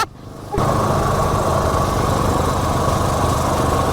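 A lawn mower engine starts up and runs loudly at a steady, close idle-like drone, continuous after a brief quiet moment at the start, with no talk.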